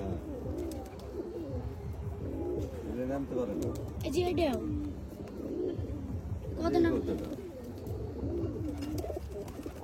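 Pigeons coo repeatedly at a rooftop loft set up to lure and catch stray pigeons, including a bobtailed bird, the low burbling calls fairly close and continuous beneath someone talking.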